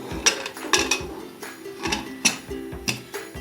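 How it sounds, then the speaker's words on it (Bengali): Sharp metallic clinks and taps as a lid is fitted onto a pressure cooker of basmati rice and potato khichuri, several close, quick knocks spread unevenly across the moment. "এখন আমি ঢাকনা দিয়ে ঢেকে দিব।"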